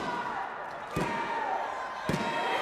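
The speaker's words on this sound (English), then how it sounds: "Hits the elbow drop" A wrestler lands an elbow drop during a wrestling match, producing two heavy, booming thuds on the ring canvas about a second apart, heard under excited commentary.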